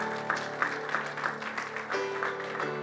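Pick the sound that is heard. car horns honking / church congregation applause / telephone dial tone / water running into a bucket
church congregation applause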